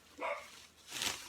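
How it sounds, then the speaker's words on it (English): A pet dog barks somewhere in a home, two faint, muffled barks spaced apart in an otherwise quiet room. "my dog's barking in the background."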